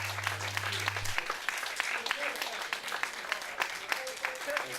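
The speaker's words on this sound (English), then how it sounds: "The applause of the Lotus Cup Europe community and the presentation of the trophies." Applause from the Lotus Cup Europe community at a podium ceremony at the Zolder circuit, a steady dense clapping crowd throughout with a low hum at the start.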